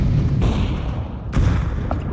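A grenade explodes in a video game as two muffled booms about a second apart over a constant low rumble.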